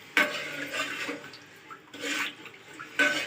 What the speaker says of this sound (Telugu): వాటర్ వేస్తున్నా.